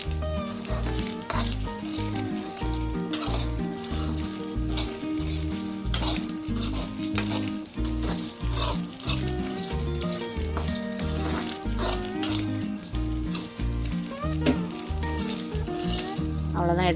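Dried anchovies (nethili karuvadu) fry in oil on low heat with a dense, continuous sizzle and crackle, occasionally stirred, and no voices over it.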